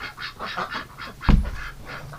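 Ducks quack indoors in short, repeated nasal calls, close and fairly loud, with one louder thump partway through.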